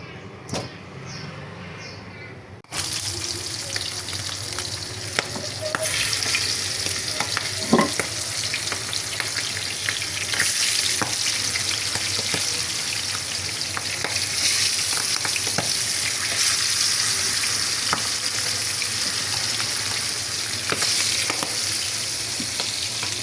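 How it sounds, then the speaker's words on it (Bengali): Washed fish, including pangas, fry lightly in plenty of hot oil, giving a steady close sizzle with occasional stirring clatter and spatter after a quieter opening. "এখন আর কি এগুলাকে হালকা ভেজে রান্না করব"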